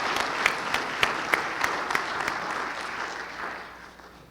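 Audience applause at an annual meeting, a dense wash of clapping with several sharper claps standing out early, steady at first and then gradually thinning and fading toward the end.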